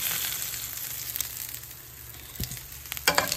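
Oxtails fry in a pan, a steady close sizzle with scattered pops and a few sharper crackles near the end, no talking.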